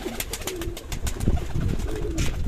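Pigeons cooing on a homing pigeon loft, a steady burbling coo repeated throughout with soft wingbeats and shuffling close by, fairly loud over a busy outdoor background.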